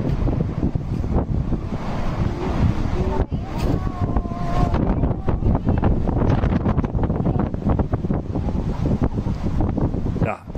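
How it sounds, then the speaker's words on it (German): Loud, steady wind noise roars and buffets against the microphone for the whole stretch, a dense rushing blast with gusty surges and no clear pauses. "Dieser Wind muss weg."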